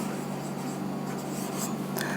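A pen scratching steadily across a board or paper during a chemistry lesson on molecular shapes, a continuous soft writing rustle close to the recorder with no speech over it.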